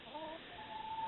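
Soft, close clucking from several hens in a coop, low murmuring calls rising and falling steadily with faint rustling around them.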